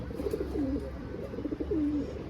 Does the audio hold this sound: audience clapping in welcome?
no